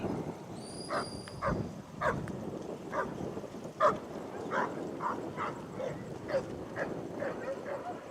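Sheepdogs moving a large mob of sheep along a road bark repeatedly at a fairly even pace, a little distant, after a brief high whistle near the start.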